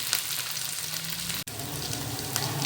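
Fish fries in a pan with onion and garlic, giving a continuous close sizzle and crackle with a brief cut-out partway through.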